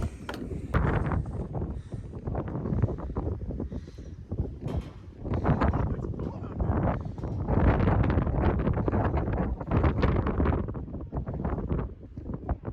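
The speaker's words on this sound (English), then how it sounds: "Ah, it's windy." Strong wind on the summit of Mount Carrigain roars and buffets the microphone in continuous loud gusts, rising and falling without pause.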